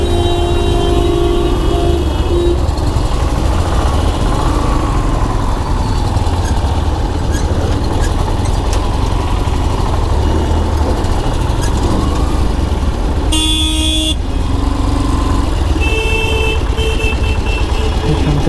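A vehicle engine idles steadily at a Padmapukur roadside before a ride, a loud continuous low rumble with faint passing traffic and a brief higher whine or horn near the end, no speech.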